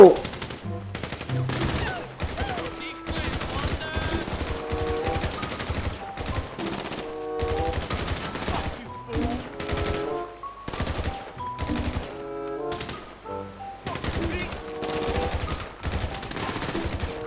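Gunfire in GTA V, shooting at zombies, comes as repeated bursts of rapid automatic shots with short pauses between volleys, loud and close throughout.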